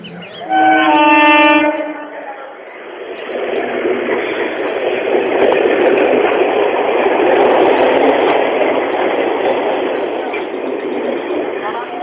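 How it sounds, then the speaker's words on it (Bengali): At dawn in thick fog, a morning train pulls out of Champahati station: a brief horn blast, then a loud, steady rumbling roll that carries on to the end. "এমন সময় ভোরের ট্রেনটা চম্পাহাটি স্টেশন ছাড়ার সময় হয়ে গেল"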